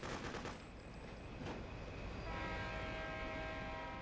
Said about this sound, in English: Now we'll wait for this train to go,